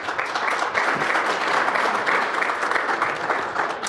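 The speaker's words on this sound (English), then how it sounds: "So please clap your hands for Bart." Dense applause from a conference audience welcoming a presenter, steady and continuous throughout with no one speaking over it.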